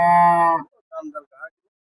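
A cross Sahiwal cow at a livestock market lets out a single loud, deep moo lasting about half a second, followed by a few brief faint murmurs.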